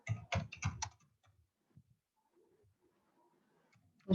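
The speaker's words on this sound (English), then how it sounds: "So I will type here" Several quick, close keyboard taps cluster at the start, followed by near silence with faint background sounds and one more tap at the end.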